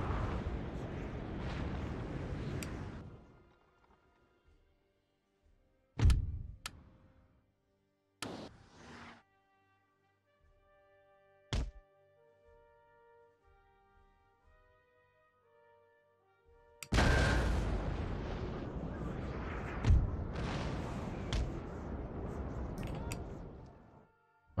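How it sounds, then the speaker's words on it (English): Cannon and artillery fire booms in Napoleon: Total War during a long pre-battle exchange: rumbling blasts and sharp distant thuds come in scattered bursts, broken by near-silent gaps. "Like an extended artillery engagement before the battle."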